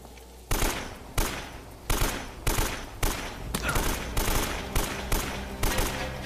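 Enemy gunfire in Uncharted: Drake's Fortune, a string of about nine loud, sharp shots in an uneven rhythm, each with a short decaying tail over a steady background.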